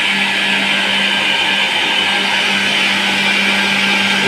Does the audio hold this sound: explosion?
no